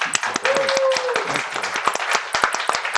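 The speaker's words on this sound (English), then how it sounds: "can I please invite our audience to give a round of applause for Burley and Josh?" Small in-person audience clapping after a talk, a few hands producing scattered, distinct claps that thin out toward the end, with voices talking over them.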